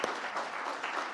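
Applause at a women in energy summit, a dense burst of clapping from an audience that starts sharply and carries on steadily and loudly for about a second.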